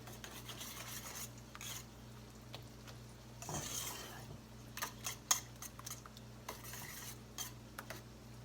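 Cottage cheese is stirred in a bowl, a quiet scraping and clinking of utensil on dish in irregular strokes over a low hum, no voices.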